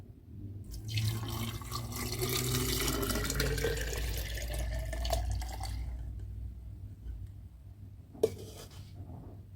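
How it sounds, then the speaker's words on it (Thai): Tamarind juice mixture poured into a container to make tamarind tepache, a steady liquid splashing and gurgling stream that lasts several seconds, then tapers off and ends with a single sharp knock. "นี่นะคะเราก็เทส่วนผสมของน้ำมะขามเนี่ย ลงไปได้เลย"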